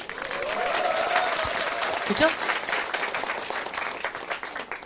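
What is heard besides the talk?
audience applause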